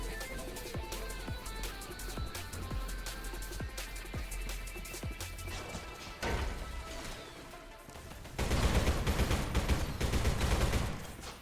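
Shotgun blasts and combat gunfire in the sci-fi shooter video game Selaco, heavy booming shots repeating at a slow pace amid explosions and crashing, growing denser and louder toward the end.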